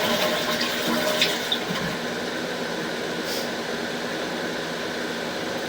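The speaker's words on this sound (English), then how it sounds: "you can see when you flush that it actually takes a bunch of the water with it" A household toilet flushes with a steady rushing, gurgling wash of water that holds at a fairly even level for several seconds and stays close by.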